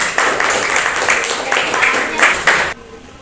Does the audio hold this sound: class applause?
yes